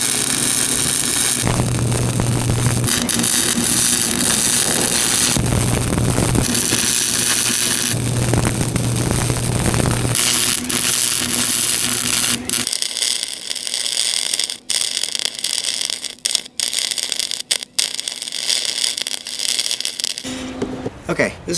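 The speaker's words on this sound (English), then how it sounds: "Now I'll make this a nicer weld all the way around so this thing will stand up on its own." MIG welder running gasless on steel while building a flag stand, a steady loud crackling buzz in long bursts that stops and starts, then quieter sputtering pops and ticks near the end.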